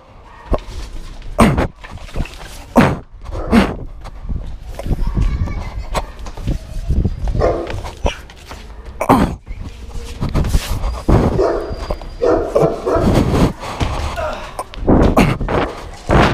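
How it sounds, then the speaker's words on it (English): Dog barking in India while chasing a parkour runner, several sharp barks and yelps spread through the stretch over running footsteps and thumps, with a fowl-like clucking mixed in and fairly close, loud sound. "this was parkour running from a dog for real"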